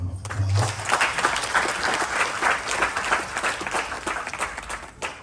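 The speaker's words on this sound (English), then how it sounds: "Honorable Shri Acharya Ji Niraj, please give him a round of applause" At a Ganesh Chaturthi temple celebration, an audience breaks into sustained applause, many hands clapping densely at a steady level after a brief low hum at the start, tapering slightly at the end.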